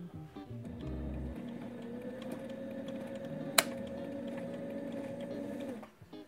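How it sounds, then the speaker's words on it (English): A sewing machine stitches a zipper, running steadily for several seconds, a continuous mechanical whir with a single sharp click midway, stopping near the end. "we're gonna take it over to our sewing machine and sew a stitch down either side"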